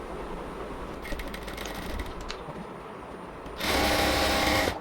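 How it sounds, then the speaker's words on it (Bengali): A sewing machine stitches the folded edge of a puff sleeve, a short broadband whir near the end after quieter rattling handling, loud and close with no talk. "এবার হচ্ছে এটাকে সেলাই করতে হবে"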